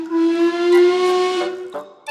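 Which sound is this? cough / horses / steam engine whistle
steam engine whistle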